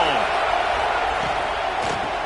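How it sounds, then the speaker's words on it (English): A football stadium crowd roars in a thick, sustained wall of noise that stays loud and constant, with a few faint thuds poking through. "Listen to this crowd just shaking the girders of this place, trying to help their defense."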